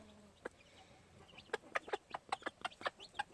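Close, quiet clucks and chirps come from a gamefowl hen and her six chicks while they feed on boiled eggs, the short calls clustering quickly toward the end.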